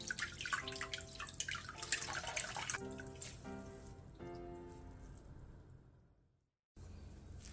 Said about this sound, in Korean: 데친 새발나물은 바로 찬물에 헹군 뒤 물기를 짜주세요.